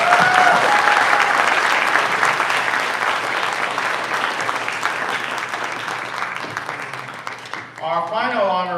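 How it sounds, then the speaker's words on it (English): An audience applauds at an AAPI Heritage Month celebration honoring nurses, a loud sustained clap that gradually thins out, then a voice begins speaking at the end. "Let's give them another round of applause."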